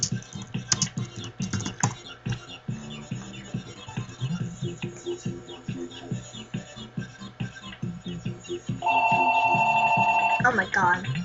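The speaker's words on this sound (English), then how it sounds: "Oh my god, a phone." A phone ringtone chimes near the end of an Animal Jam giveaway, loud, steady tones sounding for about two seconds, with continuous talking and game sounds beforehand.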